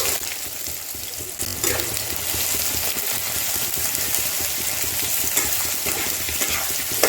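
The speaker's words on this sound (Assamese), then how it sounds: "প্ৰথমতে মই পিঁয়াজখিনি ভাজি লওঁ।" Onions fry on a high gas flame in a pan already holding cloves, cardamom and bay leaf for an Assamese-style duck curry, a steady sizzle with stirring scrapes that grows slightly louder partway through.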